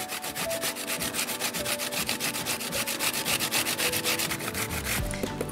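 Zucchini is rubbed against a kitchen grater in fast, rhythmic rasping strokes, close and steady for about five seconds before stopping.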